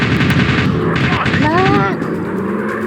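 Rapid machine-gun fire from a fighter plane in a flight combat video game, loud and dense, mixed with engine roar and a game voice speaking over the bursts.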